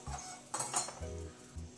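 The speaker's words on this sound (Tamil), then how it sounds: "இப்போது தாளிச்சதை இதில் சேர்த்துக்கிறேன்." Metal utensils clink against a cooking pot as a tempering of shallots and curry leaves is added to ponnanganni spinach dal curry. A few quiet, close clanks and scrapes come in short bursts, with no talking.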